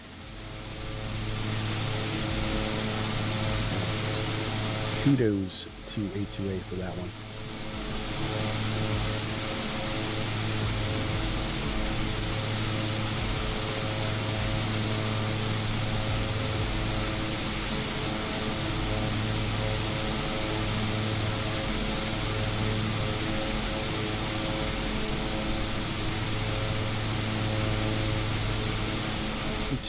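Cabin sound of a Cessna 408 SkyCourier in the MSFS2024 flight simulator: a steady, droning twin turboprop engine hum holding constant, with a brief clattering disturbance early on and a voice speaking over it.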